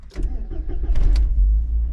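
A VW Golf MK4 with a 1.8T engine cranks in several quick uneven bursts, then catches and settles into a steady low idle rumble, heard close up.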